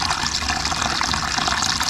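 Steady, loud splashing and sloshing of water as a guineafowl is put in to swim, a continuous bright wash with no talk.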